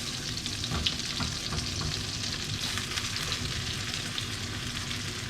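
Onions and mushrooms fry in a non-stick pan, a continuous close sizzle with faint scraping from a silicone or wooden spoon and no voices.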